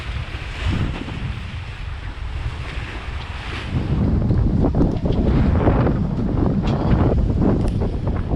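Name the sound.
wind blowing on a sailboat at sea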